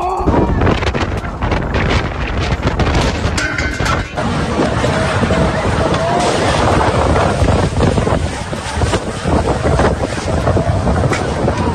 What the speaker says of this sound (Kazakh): Ал қатты желден құрылыс нысандары мен қауіпсіздік шараларының заттары көшелерге ұшып жатыр.